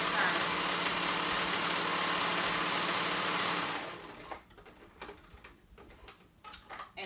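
A sewing machine runs a dress seam at steady speed, a dense continuous whir for about four seconds before stopping, followed by quieter handling noises.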